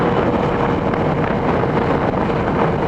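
A Yamaha FZ-09 motorcycle cruising at speed on a demo ride at DelMarVa Bike Week gives a steady, loud engine hum mixed with heavy wind rush across the microphone.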